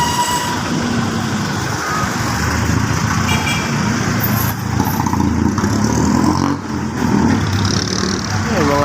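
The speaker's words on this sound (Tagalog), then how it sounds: "Yung mga tunog na mga sasakyan." Loud, continuous roar of passing vehicles and engines close by on a city street in Iloilo City, Philippines, with a brief horn toot in the mix.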